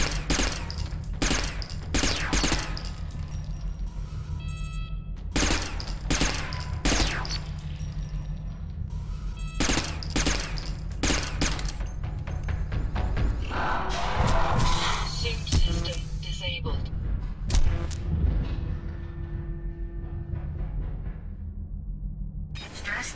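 Gunfire in the Interstellar Marines video game during a stress test comes in rapid automatic bursts separated by short gaps, loud and close, with mechanical reload clatter near the end and a voice speaking at points.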